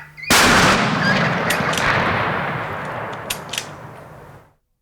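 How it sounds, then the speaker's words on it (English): A single loud hunting rifle shot fired at a bull elk in Colorado cracks sharply and then rolls away in a long echoing boom that fades over several seconds, with faint knocks in the tail. "What a shot. Right in the shoulder, and down went that bull."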